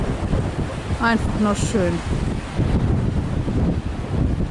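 A cold, very fresh wind at around zero degrees blows along the Baltic coast at Laboe, a loud, constant low rumble of gusts against the microphone while a person speaks briefly.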